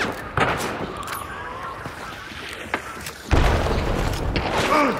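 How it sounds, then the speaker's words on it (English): A grenade explosion in the shooter game Hunt: Showdown lands as a sudden loud boom partway through, followed by a sustained blast rumble, with earlier scattered gunshots and impacts in the game mix. "Grenade."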